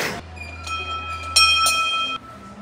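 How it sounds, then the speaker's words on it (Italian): A village bell rung in Monteriggioni gives bright metallic clangs, a few distinct ringing strikes with lingering tones, fairly close, with no talk. "Va a suonare la campana dei villager."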